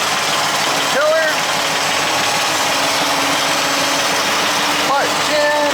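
A Poulan Pro tractor engine idles steadily throughout, a continuous close mechanical drone with a couple of brief higher whines or squeaks near the start and end.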